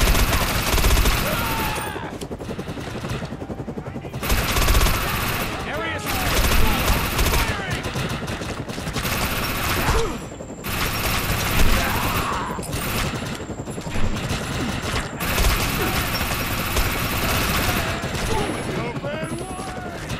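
Automatic weapon fire in the shooter game Defiance, loud sustained bursts and rapid fusillades broken by brief pauses, with a player talking over the shooting.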